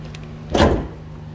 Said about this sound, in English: Open the hood with this and check the brake fluid reservoir